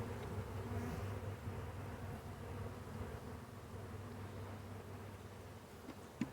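A swarm of honey bees buzzes steadily inside a hive box during a hive install, a dense, continuous drone close to the microphone with a faint knock near the end.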